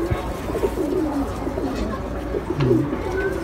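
A female racing pigeon coos in low, rolling bursts at close range, a few soft throaty phrases standing out over steady background hum and faint bird noise.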